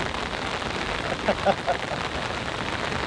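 Heavy rain pours down on a storm camping site, a dense, steady hiss that fills the whole stretch, with a faint brief voice or knock in the middle.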